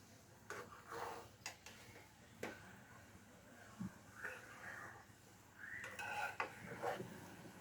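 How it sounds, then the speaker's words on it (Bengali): Chicken khichuri being stirred in a pot after the lid comes off, with soft scrapes and metallic clinks of a spoon against the pot at an irregular pace, fairly quiet and close. "ঢাকনাটা উঠিয়ে একটু নেড়ে দেব।"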